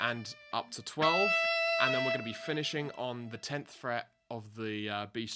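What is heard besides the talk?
No everyday noise stands out behind the speech.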